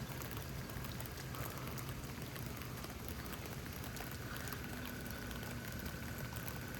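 Steady, dense rain falls throughout a thunderstorm in Houston, Texas, a continuous even hiss of drops on surfaces with no pauses or distinct thunder.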